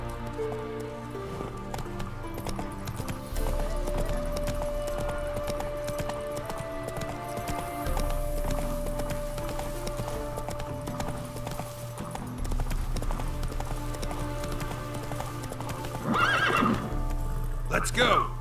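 Horse hooves clip-clop at a steady gallop with a neigh in The Witcher 3 game, over constant game music; a voice speaks briefly.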